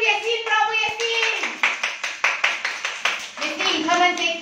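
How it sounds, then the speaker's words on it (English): Children clap their hands in a classroom, a run of about a dozen quick, close, fairly loud claps in steady rhythm, with an adult voice speaking before and after. "Bravo, clap your hands for Yasin"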